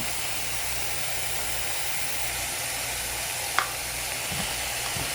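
Beef brisket frying in a pan with potato and onion added, a steady close sizzle throughout, with one brief sharp click partway and faint low rumbling underneath; no one speaks.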